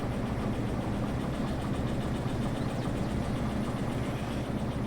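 A locomotive engine in the Derail Valley video game runs at a steady, loud idle, a continuous low rumble with no breaks and no talk over it.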